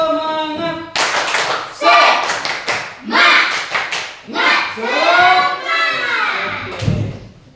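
Rhythmic group clapping from a class of children led by a teacher, loud and close, with sharp hand slaps falling into a patterned chant while voices call out together between the beats.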